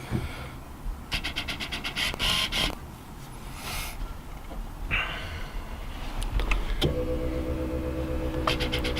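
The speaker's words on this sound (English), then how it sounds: "There we go, that's the fuel pump." A car's fuel pump primes with a steady electric hum that starts partway through, after earlier rattles and clicks inside the car, close and loud without talk.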